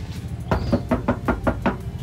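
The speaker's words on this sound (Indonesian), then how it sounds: "pintunya ini akan terasa suaranya seperti kaleng dan menggaung kalau kita coba ketok ya di bagian pintu" Seven quick, evenly spaced knocks on the hollow door panel of a Honda CR-V, each with a tinny, can-like resonant ring, close and distinct.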